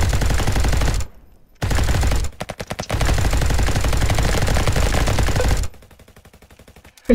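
Rapid automatic gunfire in the Roblox game RF Legacy comes in loud, dense bursts separated by brief pauses, with a quicker rattling volley near the end and no voices.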